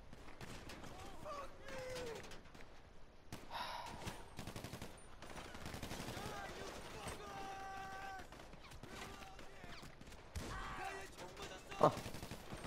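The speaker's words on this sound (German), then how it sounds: "Da hat auch gerade einer geschossen." Scattered gunshots and bursts of automatic fire from Grand Theft Auto V Online crackle over game sounds, with one sharp louder shot near the end and people talking throughout.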